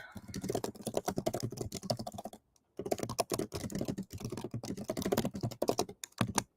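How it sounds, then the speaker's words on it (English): Fast, steady typing on a computer keyboard, close and clear, with dense rapid key clicks and one brief pause partway through, no talk. "I'll finish typing it out here in just a second."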